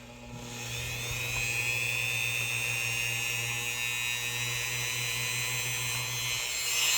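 A rotary tool fitted with a fiber wheel grinding rust from a vintage RIC-NOR electrician's knife, producing a close, steady high-pitched whine with a low hum that holds for several seconds and then eases.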